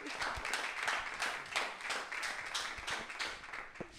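Audience applause at a ceremony presenting end-of-internship certificates, a loose, moderately faint clapping from a small crowd with uneven individual claps and a few sharper taps.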